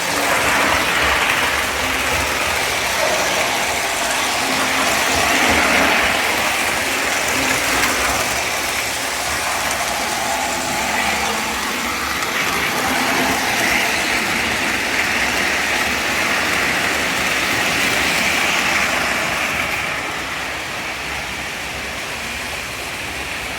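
Lionel postwar Lackawanna Train Master model train rumbling and clattering steadily along the track, a loud continuous mechanical roar with rattling gear noise that stays fairly even throughout before easing slightly near the end.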